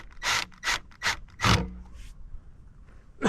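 Screws are driven into a gravity tube deer feeder set against a metal T-post, heard as several short, close grinding bursts of a drill with brief pauses between them.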